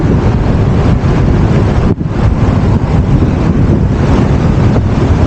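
Strong wind roars across the microphone during a motorcycle ride toward Tagaytay, a loud, constant buffeting rush with a brief dip partway through.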